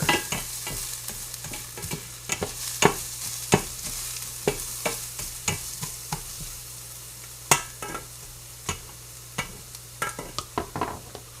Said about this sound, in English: It's smelling like you could use a stir.